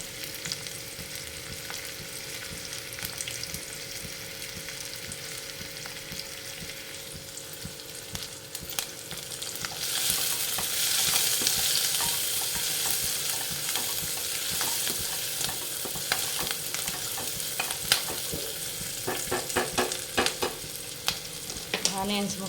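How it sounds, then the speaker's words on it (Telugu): Onion pieces frying in a pan, a continuous close sizzle that swells louder partway through, with occasional scraping taps of a spoon stirring near the end. "ఆనియన్స్ ముక్కలు వేగాయి."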